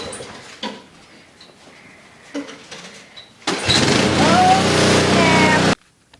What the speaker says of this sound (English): This is my dad using the snowblower.